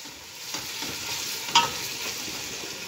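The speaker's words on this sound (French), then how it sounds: "Puis j'ai ajouté le piment. Et vous laissez dorer." Chili frying and browning in a pan, a steady sizzle with faint stirring scrapes and one brief sharper clink partway through, no voices.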